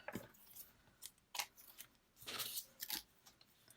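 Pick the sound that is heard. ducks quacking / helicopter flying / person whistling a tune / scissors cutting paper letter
scissors cutting paper letter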